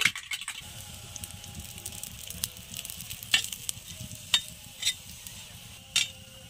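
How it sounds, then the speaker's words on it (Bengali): A thick-rolled paratha toasts on a hot pan for an egg chicken roll, giving a steady close sizzle with a few sharp spatula scrapes and taps and no voices. "আমি মোটা করে বেলেছি, আমি ভালো করে এটা সেঁকে নেব।"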